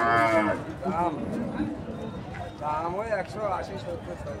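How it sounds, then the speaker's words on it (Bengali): Cattle lowing at a busy cattle market in Alamdanga, several drawn-out moos rising over crowd noise and nearby chatter, with people talking throughout. "দেখছেন প্রচুর পরিমাণ কিন্তু গরু আজকে বাজারে আমদানি হয়েছে।"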